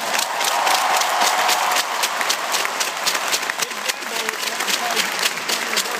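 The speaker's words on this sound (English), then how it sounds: "So let's give them a round of applause." A large arena audience applauds at a basketball championship ring ceremony, dense continuous clapping with some cheering that stays loud and steady throughout.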